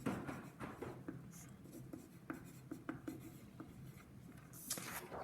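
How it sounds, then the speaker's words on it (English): A pencil or pen scratches steadily across paper as a name is written on the back of a portrait drawing, with short strokes and brief pauses, close and fairly quiet. "I want you to write your name on the back."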